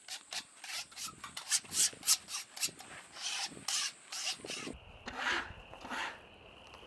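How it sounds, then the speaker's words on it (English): Residue is scraped off a freshly milled poplar slab at a sawmill in a series of rough, rasping strokes of uneven rhythm, close and fairly quiet. "Now scrape it off."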